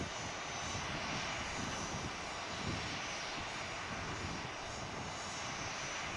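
An airliner's engines at Manchester Airport produce a steady, even roar, a dense continuous drone that holds at one level from start to finish with no speech.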